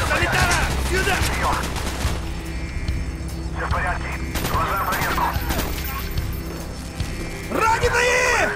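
Bursts of rapid automatic gunfire and single shots crackle through a Call of Duty Black Ops match, mixed with shouting voices between volleys.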